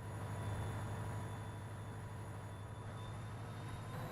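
A train in the Trainz Simulator 3 game on the Summer Lake Pass route gives off a steady low rumbling engine drone with constant mechanical hum, moderately loud and unbroken, with no talking.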